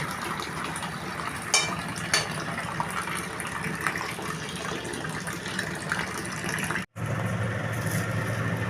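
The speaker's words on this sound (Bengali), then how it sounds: "অ্যাকোয়াগার থেকে দেখো জল পড়ছে বন্ধুরা" Water pours from an Aquaguard purifier into a cooking vessel in a home kitchen, a steady gushing rush with brief clinks and a short break near the end.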